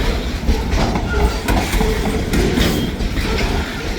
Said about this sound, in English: That's a good section of freight going south.